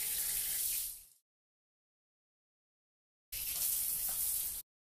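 Water gushes from a tap in two bursts, about a second and then over a second long, with silence between; close and steady.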